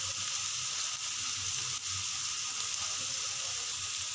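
Chopped onions roasting in a pan for a vegetable Kolhapuri curry, a soft continuous sizzle and frying hiss with faint, occasional stirring, close by and without voices.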